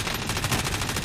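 Rapid automatic gunfire in the video game Call of Duty, a dense, loud, unbroken burst of evenly spaced shots lasting about a second with no talk.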